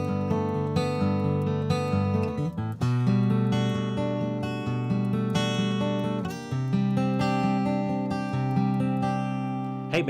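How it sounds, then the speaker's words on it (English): A guitar plays a chord progression moving from G2 with B in the bass up to C2, strummed rhythmically and close, the chords sustaining and changing with brief pauses between. "So I have a chord progression suddenly that sounds like this."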